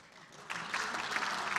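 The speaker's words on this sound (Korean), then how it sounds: "박수 치지 마세요. 박수 치지 마세요." Applause breaking out in a parliamentary assembly during a floor leader's speech, starting abruptly after a quiet moment and continuing as fairly soft, close clapping.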